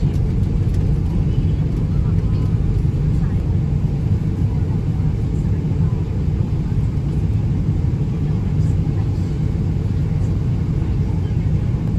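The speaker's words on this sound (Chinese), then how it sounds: "飞机已经对准了跑道" An airliner descending toward the runway at Hong Kong airport, heard from inside the cabin as a steady, loud low engine rumble and airflow that holds constant throughout.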